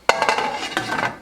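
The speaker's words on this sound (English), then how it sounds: "And we're going to place the cover." A metal lid clanks down onto a cooking pot of simmering sarson da saag, one sharp clink followed by a brief rattle as it settles, close and fairly loud.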